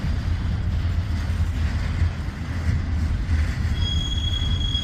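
A freight train rolls steadily past, its wagons rumbling with a low drone, wheels squealing faintly and a high tonal whine emerging near the end as it slows.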